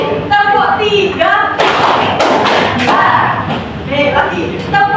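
Students in a classroom clapping together in a short, loud run of several group claps, with a teacher speaking around them during a microteaching lesson.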